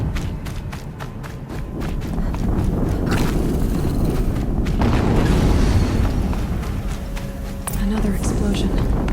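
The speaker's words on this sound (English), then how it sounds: "Another explosion." Explosions go off in Horizon Zero Dawn combat, heavy booms and bursts amid footsteps and action noise, with voices speaking over the gameplay.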